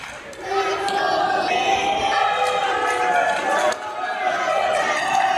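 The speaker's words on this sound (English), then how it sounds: "You hear the crowd there chanting, "Let's go, Diego."" A wrestling crowd at a pro wrestling show chanting in rhythmic unison, loud and sustained arena voices filling the space with overlapping chatter.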